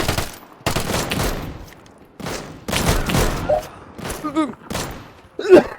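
Shotgun blasts in the survival shooter Deadside come as several sharp, loud bursts separated by short silences, close and punchy, with players talking between and over the shots.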